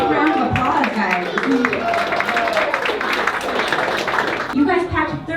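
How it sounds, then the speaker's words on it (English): Volunteers who packed meal boxes clap in a lively burst of applause mixed with children's excited voices and chatter, fairly close and sustained, ending in a short lull. "Big round of applause, guys."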